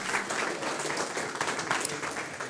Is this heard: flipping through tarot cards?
no